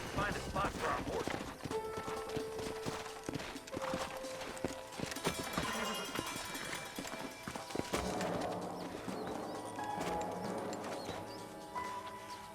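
Horse hooves clip-clop on the ground in the Western video game Red Dead Redemption, an uneven run of hoofbeats mixed with game music, effects and talking voices throughout.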